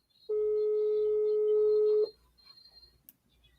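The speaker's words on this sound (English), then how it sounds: "The phone is ringing." Ringback tone on an outgoing phone call: one steady electronic tone lasting nearly two seconds, then near-silence while the line waits for an answer.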